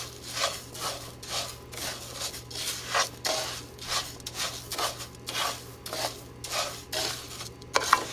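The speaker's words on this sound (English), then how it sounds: "Make sure to coat all your rice with that delicious fat." Rice is stirred through bacon fat in a pan over medium heat, giving a continuous rhythmic scraping and rubbing of a utensil across the pan, close and moderately loud, with a steady low hum beneath.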